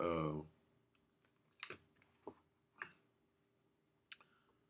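A computer keyboard gives about half a dozen sparse, separate keystroke clicks, close and fairly quiet. A short burst of voice comes at the very start.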